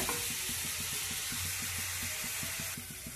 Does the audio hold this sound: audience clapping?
no